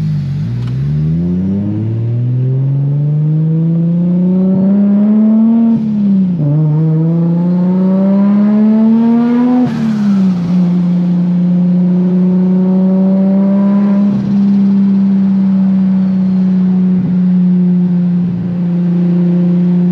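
A modified Ferrari F40, right-hand drive with a manual gearbox, roars steadily from the driver's seat, its engine note rising in pitch through a couple of gear pulls before settling into a loud, sustained drone.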